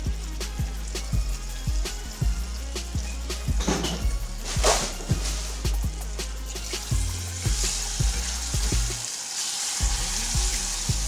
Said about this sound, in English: we're going to add in 6 tablespoons of butter. And we're going to allow that to also melt in.